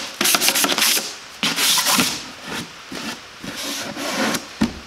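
Hand sanding on a wooden rabbit nesting box makes close, loud, rough scraping strokes. The strokes come in uneven bursts with short pauses between them, and no one speaks.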